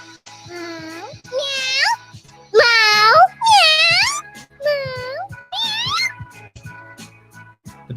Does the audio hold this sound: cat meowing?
yes